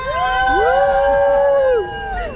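Riders on the Studio Tour tram at Universal Studios Hollywood let out a long, drawn-out scream together going downhill for about a second and a half before it fades off.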